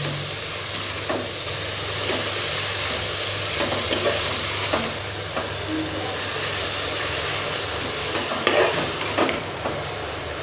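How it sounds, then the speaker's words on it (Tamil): Fenugreek greens wilt in a hot pan for biryani, giving a loud, even hiss of sautéing with scattered soft stirring scrapes and taps throughout. "இந்த கீரையை போட்டு இப்போ நல்லா வணக்கி விடுங்க"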